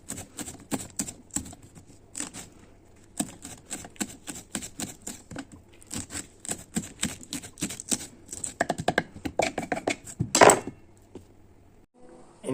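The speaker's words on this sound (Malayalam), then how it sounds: "ഇനി 3 പച്ചമുളക് അരിയാം." Three green chillies are finely chopped with a knife, giving quick, closely spaced tapping strokes on a board that come in bursts and speed up toward the end, close and fairly clear.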